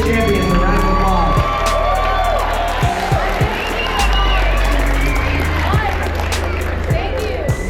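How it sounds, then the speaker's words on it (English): An audience at a Florida trail riders' motorcycle awards banquet cheers, whoops and claps loudly for the Pee Wee A champions, a dense continuous crowd roar with shouts layered throughout. "give your Pee Wee A champions a round of applause"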